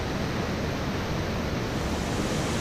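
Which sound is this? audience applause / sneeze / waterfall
waterfall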